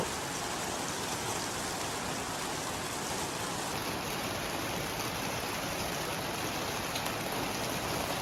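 Steady, heavy rain pours down continuously with a dense, even hiss and no voices.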